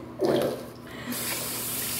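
Water sprays and splashes from a tap or hose while a puppy named Macy is bathed, in short bursts with a brief pause between.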